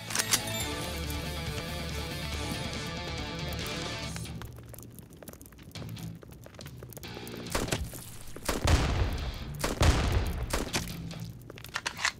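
Rapid gunfire and blasts from the video game Guns and Draguns, dense and continuous with booming impacts mixed over game music, no talking.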